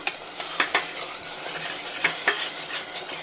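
Mutton curry masala sautéing in oil in a pan, a soft continuous sizzle punctuated by several sharp spoon-against-pan clinks and scrapes as it is stirred, close and fairly quiet, no voices.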